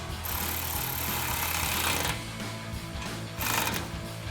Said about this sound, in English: take your 13mm socket and tighten these down